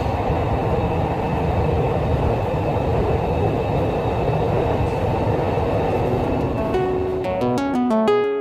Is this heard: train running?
yes